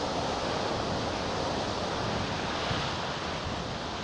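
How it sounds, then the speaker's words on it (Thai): Strong wind roars over the microphone as a rainstorm begins in Mae Sai, a constant broadband rushing like surf, steady and fairly loud throughout with no voices. "ฝนเริ่มลงเม็ดมาปล่อยๆแล้วครับผมแต่ลมค่อนข้างจะแรงครับผม"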